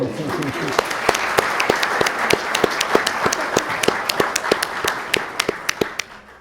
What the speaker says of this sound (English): I'd say we could give them a round of applause